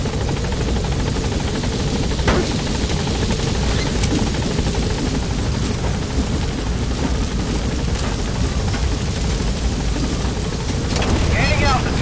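The Pequod helicopter in the video game Metal Gear hovers nearby, its rotor producing a steady loud whirring drone with wind-like rush throughout, and brief voices sound over it.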